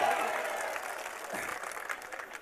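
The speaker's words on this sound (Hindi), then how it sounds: "एक बार तालियों से इस्तकबाल करें" An audience applauds at a public gathering, a dense wash of clapping that starts loud and slowly thins over a couple of seconds.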